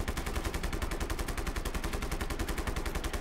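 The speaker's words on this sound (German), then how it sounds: "aber wir haben natürlich eine Pistole" Rapid pistol shots fire in a video game, a fast steady string of sharp cracks packed tightly across a few seconds, loud and up close with no speech over them.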